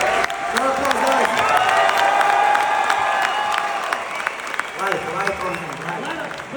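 Audience applause and cheering at a mixed martial arts event with Khabib Nurmagomedov, clapping and crowd noise under someone speaking loudly over it, swelling and fading in a busy hall.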